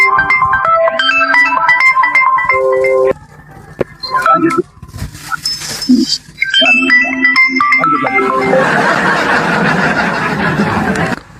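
Phone ringtones chime again and again from repeated incoming calls, loud melodic beeping tones cutting in and out, with a short gap, then giving way to noisy chatter and laughter.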